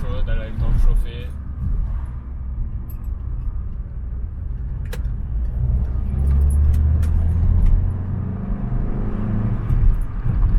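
A warmed-up Peugeot 307 with a 2.0 petrol engine runs with a steady low drone and rising rumble as the car drives along, heard from inside with faint rattles and clicks.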